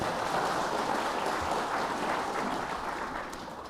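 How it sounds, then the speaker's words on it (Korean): A hall audience at a Korean education forum claps for guests who travelled from Samcheok, Donghae and Seoul, a steady dense wash of applause that gradually thins toward the end, no voices over it. "이분들께 모두 박수 한번 보내드릴까요?"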